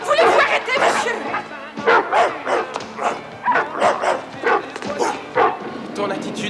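Dog barking in a French comedy film scene, a rapid series of loud, sharp yips and barks repeating in bursts, mixed with people speaking over and between them.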